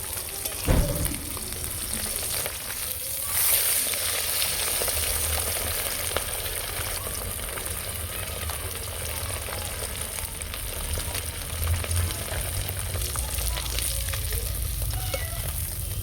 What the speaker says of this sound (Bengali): মাছ আমার এক পিট ভাজা হয়ে গেছে উল্টে দেবো